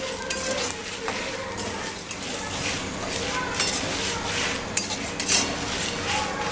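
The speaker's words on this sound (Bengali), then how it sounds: "সব উপকরণগুলি একসঙ্গে কিছুক্ষণ নাড়াচাড়া করে নেব।" Whole cumin seeds and spices stirred together in a pan for aloo paratha masala, with a steady scraping of a utensil against the metal, a soft frying sizzle and occasional clinks.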